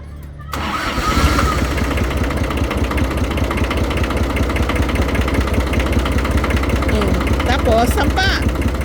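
A Kubota tractor engine cranks and catches, then settles into a loud, steady, chugging idle as it warms up, with brief voices near the end.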